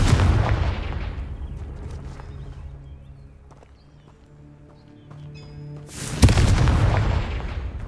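Two deep booming explosions from a Confringo spell in Hogwarts Legacy, one at the start fading into a long rumbling decay and a second sharp loud blast near the end.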